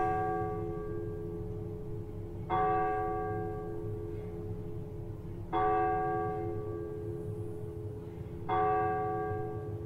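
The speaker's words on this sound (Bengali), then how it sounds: "নিচের দেউড়ির ঘন্টায় বাজল" Gate bell of a house striking four o'clock on a quiet Sunday afternoon: three ringing bell strokes spaced about three seconds apart, each with a long resonant hum, over a steady low drone.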